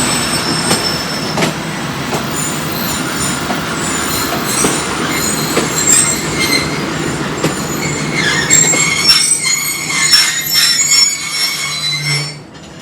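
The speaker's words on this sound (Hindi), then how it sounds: "अचानक से ही 39 अब जाफर एक्सप्रेस पहुँची चकराला रेलवे स्टेशन पर," The Jaffar Express rolls into Chakrala railway station in Pakistan with rumbling wheels and a rising metallic squeal of brakes, loud and close, fading slightly at the end.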